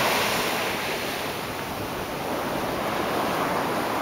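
Ocean surf breaking on a beach at sunrise, a steady broadband wash of waves with some wind rumble on the microphone, continuous and fairly loud with no talking.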